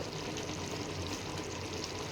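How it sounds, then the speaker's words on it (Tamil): Water is poured into a simmering curry in a pan, giving a dense, steady rushing and sizzling hiss that stays even and moderately loud for about two seconds. "தண்ணி ஆட் பண்ணிடலாம்"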